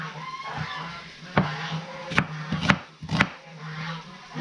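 Geese honk in a few sharp, fairly close calls over a quiet outdoor backdrop, with soft chopping-like knocks in between.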